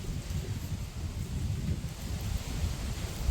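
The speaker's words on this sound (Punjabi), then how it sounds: "ਕਿੰਨੀ ਠੰਡੀ ਹਵਾ ਚੱਲ ਰਹੀ ਹੋ ਕਿ ਦਰਖਤਾਂ ਤੋਂ ਆਈਡੀਆ ਲਾਓ" Strong cold wind blows steadily through trees during a storm, a soft continuous rushing and rustle with low gusty rumble, fairly faint and without talk.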